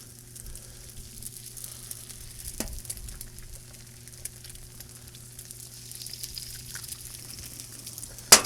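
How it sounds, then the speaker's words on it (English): Eggs frying in oil on a Blackstone griddle give a soft, continuous sizzle and faint crackle, steady and fairly quiet throughout, with a low hum underneath and an occasional light tap. "We're just going to quickly fry 2 eggs."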